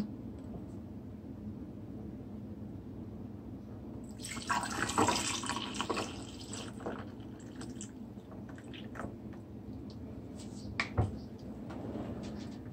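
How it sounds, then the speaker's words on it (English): Homemade Jamaican sorrel drink poured over a piece of ice in a jar, a short liquid splash and trickle with light clinks, then quieter drips and small knocks in a quiet kitchen. "And I'm gonna pour a little in it."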